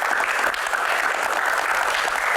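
A crowd claps steadily and loudly, a dense unbroken wash of applause with no talking over it.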